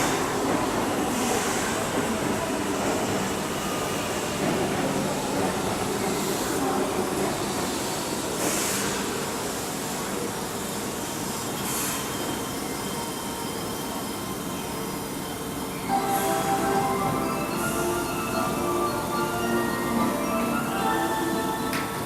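A Keihan electric train at Hirakatashi station during the evening rush, with a steady rumble of wheels and motors filling the platform, a few sharp clanks along the way, and a tonal whine rising near the end.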